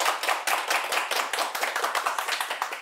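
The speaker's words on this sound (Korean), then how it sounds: "오늘도 열정적으로 강의해 주신 신부님께 큰 박수 부탁드립니다" After a Catholic priest's lecture on the Book of Revelation, the audience bursts into applause, close, loud rhythmic clapping that settles into a rapid, fairly even beat with no voices over it.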